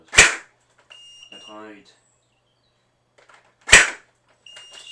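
An upgraded X-Shot Gel Gatling gel blaster fires two sharp, loud cracks a few seconds apart, each followed by a brief electronic beep and whir from a chronograph, with a voice briefly speaking between shots.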